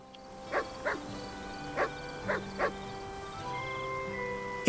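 Dog in the video game Tales of Arise lets out five short, quick yips or barks in an uneven rhythm over soft background music, fairly quiet.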